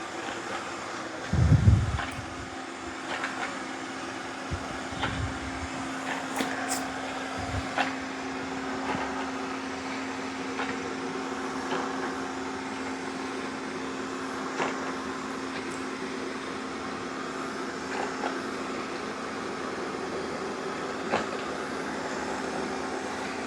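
A Narwal Freo Z Ultra robot vacuum mop cleaning a floor with spilt coffee gives off a steady, droning whir with a faint tonal hum, plus a few soft bumps and clicks near the start.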